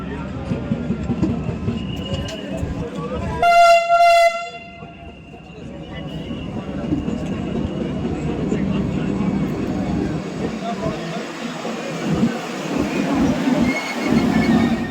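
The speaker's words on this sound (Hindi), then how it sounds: "आज जैसे ही Vande Bharat train Kurukshetra railway station पर पहुंची" A Vande Bharat train arrives at Kurukshetra railway station during a welcoming event, its loud horn sounding in a short harmonic blast before a busy crowd noise of voices and movement continues around the platform.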